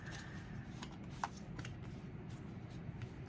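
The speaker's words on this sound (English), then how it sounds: "I'm going to pull 3 cards for the base spread" Tarot cards are shuffled and handled close by, a soft papery riffle and shuffle with a brief sharp card slap in the middle, heard alone without speech.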